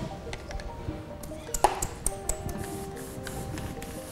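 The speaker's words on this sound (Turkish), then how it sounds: "Her evde mutlaka bir sprey kutusu olmalı." A hand spray bottle mists the leaves of a Ficus benjamina houseplant, giving a few short, soft hissing bursts close by over a quiet room background, with no talking.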